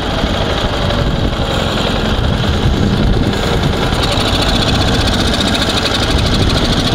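A Ural Dnepr motorcycle engine runs steadily after a carburetor change, a loud, continuous close-up rumble with a rough, knocking texture and no break across the whole stretch.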